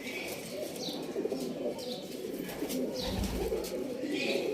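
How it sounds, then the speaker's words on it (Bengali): Breeding pigeons coo softly in a loft, low murmuring calls repeating under steady background noise with faint chirps and occasional wing movement. "কত সুন্দর পায়রা দেখুন এটা ব্রিডিং পায়রা ওনার"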